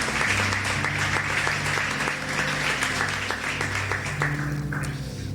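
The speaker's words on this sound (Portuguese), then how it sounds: "Aplauda Jesus pela vida do Ismael" A church congregation applauds during a worship service, steady clapping filling the room over a low sustained organ or keyboard tone.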